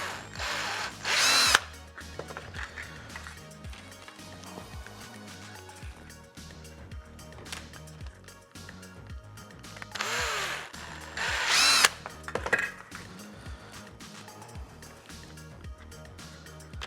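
Power drill boring a 4mm hole in TIE pilot armour, with short loud bursts of whining motor spin-up separated by quieter handling noise and a steady background hum.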